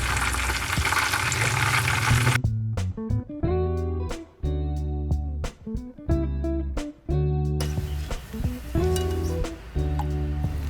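Malay spiced chicken pieces deep-fry in oil with their leftover marinade, giving a loud, dense sizzling hiss at the start and end, while plucked musical notes play prominently through the middle.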